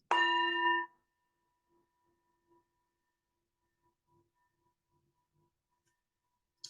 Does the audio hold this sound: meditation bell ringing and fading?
yes